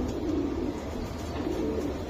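Giribaz racing pigeons cooing steadily in a loft, two swelling coo phrases close by over a constant low murmur, no talking.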